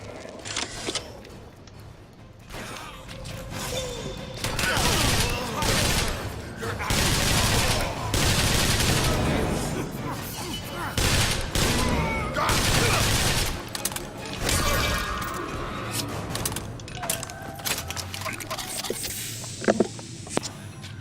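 Machine-gun fire in BioShock Infinite rattles in long sustained bursts amid booms and chaotic combat noise, with a voice speaking briefly.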